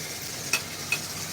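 A rump steak sears in a preheated cast iron pan with a steady, faint sizzle and two brief sharp metallic clicks, no voices over it.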